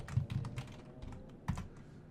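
Quiet, quick keystrokes on a computer keyboard while Java code is typed, a close, irregular patter of soft clicks with a few heavier taps and no speech.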